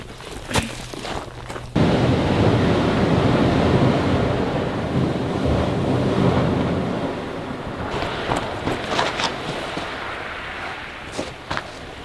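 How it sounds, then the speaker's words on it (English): Pacific Ocean surf crashes in a loud, sustained roar driven by strong wind buffeting the microphone, swelling after a sharp onset and easing slightly toward the end, with no voices. "The waves sound like there's a tsunami coming up to where I'm sleeping."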